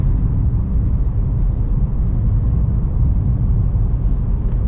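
Steady low rumble of a lowered car cruising at speed on a motorway, continuous road and engine noise with no talking.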